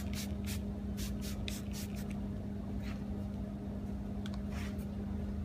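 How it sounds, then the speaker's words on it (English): A pressure washer's spray nozzle blasts water in a continuous, dense hiss with a steady motor hum beneath. Brief splashy bursts come and go throughout, loud and close. "After that, you can use a pressure washer and clean it away."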